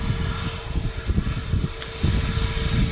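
An EasyJet Airbus A320neo landing at Manchester Airport, a low rumbling engine roar with a steady hum, heard from a distance and swelling slightly toward the end.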